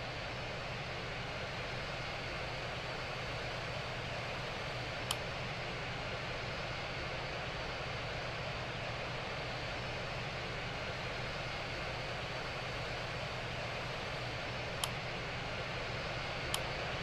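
Airbus A350-1000 engines spin up in a steady, broad whooshing roar heard from inside the cabin, constant and unbroken for the whole stretch with only a couple of faint ticks.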